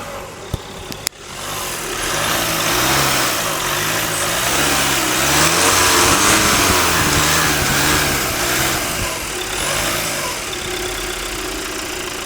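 A steady, loud diesel engine drone from an MG Majestor 4x4 SUV runs throughout after a brief click, rumbling low with a slight rise and fall like idling and revving gently.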